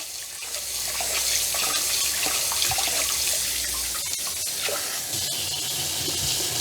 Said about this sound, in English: Okay, let's rinse the rice.